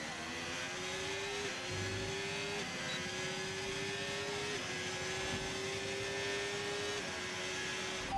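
Formula 1 race car engine in the F1 25 video game, a steady high whine rising through gear shifts with brief dips between them, continuous and fairly loud, with no speech.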